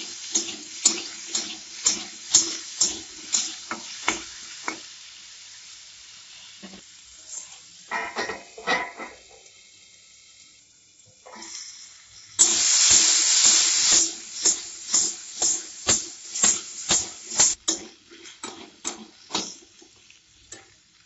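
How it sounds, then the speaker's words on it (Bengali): Potatoes for a magur fish and drumstick curry hit hot oil in a pan with a sudden loud sizzle of a couple of seconds, surrounded by repeated rhythmic scraping and stirring strokes before and after. "এবার আলুগুলো ভেজে নেব।"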